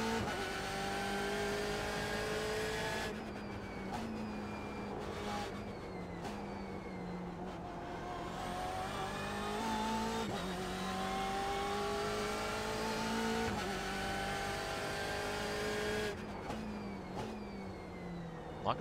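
In the iRacing video game, a BMW M8 GTE race car at Imola roars steadily as the engine revs rise and fall through gear changes. Tires squeal in places, and the sound stays loud and continuous throughout with no talking.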